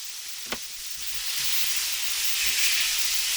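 Steak sears in a cheap $17 cast iron skillet, giving a steady close sizzle and hiss that grows slightly louder, with a soft clunk near the start.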